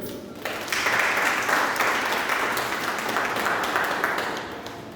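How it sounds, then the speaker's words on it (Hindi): An indoor audience applauds at a Hindi Diwas event, the clapping rising quickly after a brief quieter start into a full, steady round that tapers slightly toward the end. "मैं चाहूँ इस पर तालियां बजनी चाहिए।"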